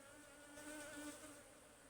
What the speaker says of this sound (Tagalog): Daming pong nadalang bubuyog.